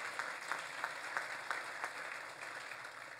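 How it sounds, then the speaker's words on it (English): Audience applause in a hall at a Chamber of Commerce public safety awards event, a crowd clapping steadily with a few sharper claps standing out, even and continuous, with no voices heard. "Let's give them a round of applause."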